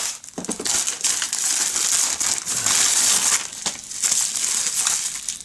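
A small parcel package is torn open by hand, with crinkling, crumpling wrapping and bursts of crushing plastic, close and busy throughout.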